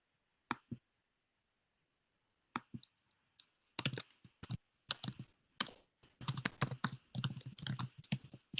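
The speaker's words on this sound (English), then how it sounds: "but I can hear you typing" Typing on a computer keyboard during an online security meetup call, heard as sparse isolated key clicks at first, then faster irregular bursts of clattering keystrokes, close and fairly quiet against near silence.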